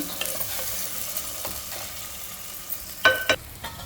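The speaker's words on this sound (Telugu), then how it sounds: "కొంచెం బఠానీ ఆయిల్లో కొంచెం ఫ్రై అయింది" Green peas sizzle and fry in oil in a pan, a steady close crackle with a few sharper stirring scrapes near the end and no talking.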